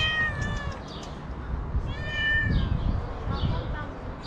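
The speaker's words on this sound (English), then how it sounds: "And we've got a cat that can say hello." A cat meows several times beside discarded Soviet-era equipment dumped outdoors in Tbilisi, the calls close and clear over low outdoor rumble.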